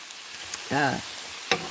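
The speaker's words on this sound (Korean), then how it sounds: "이렇게 고기를 좀 많이 넣어서 볶음밥을 하는 거예요" Fried rice with pork, butterbur and oyster mushrooms sizzles in a pan with a steady, fairly faint hiss, broken by a few sharp utensil clicks and a brief voiced sound.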